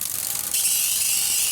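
Blue light air sterilizer gun switched on, a brief click followed by a steady high airy hiss that starts abruptly and continues faintly.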